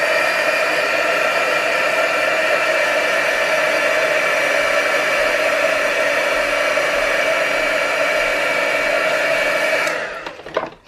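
A hair dryer blows steadily on marker ink, a loud continuous whooshing whir lasting about ten seconds before switching off abruptly.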